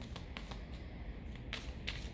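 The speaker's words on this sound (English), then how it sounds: "sometimes when the cards are so small, it's even harder to shuffle" A small deck of mini tarot cards is shuffled by hand close up, giving quiet riffling flicks in irregular bursts with a couple of sharper snaps near the end and no talking.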